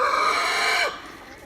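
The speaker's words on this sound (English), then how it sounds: "Now these are all my roosters right here." Roosters let out of their pen onto the yard, one loud, close crow sustained for most of a second before breaking off, followed by faint farmyard background.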